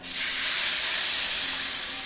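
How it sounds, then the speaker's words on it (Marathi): Spices for the tempering of a raw mango amti sizzle in hot oil, giving a loud, steady, bright hiss close up that fades slightly over two seconds. "आता याला असा छान आवाज आला पाहिजे. तर ही छान फोडणी बसली आपण समजायचं."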